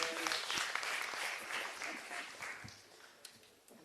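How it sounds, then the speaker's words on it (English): An audience at a women's parliament event claps for a speaker, with dense applause that slowly fades out over a few seconds. "Last round of applause for Ilia."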